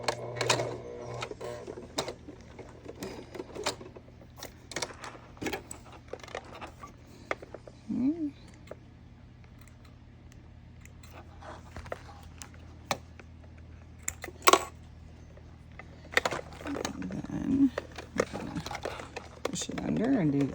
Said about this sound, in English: And sew right to our previous line of stitching.